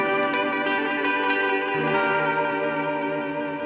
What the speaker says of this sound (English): Yeah, this is totally vibrato, right? Chorus vibrato kind of thing.